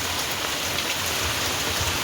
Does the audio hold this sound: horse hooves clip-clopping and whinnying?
no